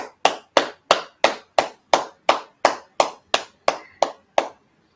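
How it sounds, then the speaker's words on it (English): A class claps together at the end of a session: fourteen sharp, evenly spaced claps in a steady rhythm, loud and close, then silence. "So with that, we're gonna end the class. Let's clap it up."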